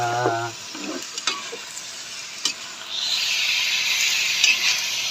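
Food with lots of string beans is stirred in a pan, scraping clicks over a hiss of frying that swells into a loud, steady sizzle halfway through. A brief voice is heard at the start.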